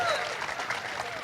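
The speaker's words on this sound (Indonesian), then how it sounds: "Teman-teman, Tepuk tangan dong." Brief crowd applause, moderately loud and continuous, with a voice heard over the clapping.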